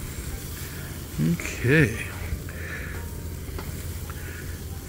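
Food sizzles on a Weber mini BBQ grill right after being flipped, a steady crackling hiss throughout with a short spoken word partway through.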